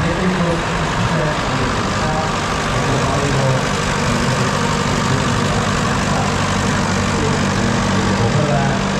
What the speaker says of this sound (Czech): teď nám výjíždí traktor Oliver 70, veterány